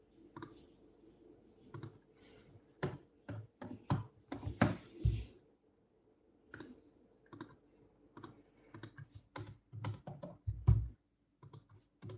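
Typing on a computer keyboard during a live stream, with close, irregular bursts of clicky keystrokes separated by short pauses.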